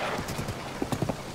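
Horse hooves clip-clop at a galloping pace in Tears of the Kingdom, a steady rhythm of close, moderately loud hoofbeats with a few sharper hits near the end.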